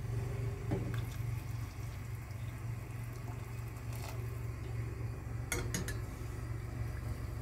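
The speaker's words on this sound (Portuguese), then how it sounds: "Acrescentar a água já quente." Hot water is poured into a pot of seasoned rice, a steady rushing pour running throughout with a few light metallic clinks near the start and again toward the end.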